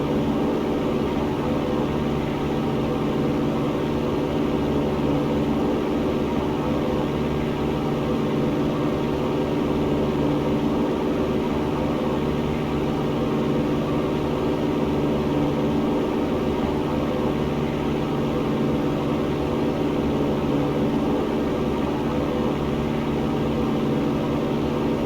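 A light aircraft engine in a flight simulator climbs out straight ahead on runway heading after takeoff, a steady, unbroken droning hum with even tonal layers, loud and close, with no voices.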